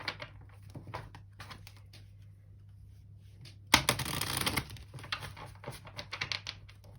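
A tarot card deck being shuffled by hand, soft intermittent riffling and tapping of cards, close and quiet, with a sharper, denser burst of shuffling in the middle before lighter card handling resumes.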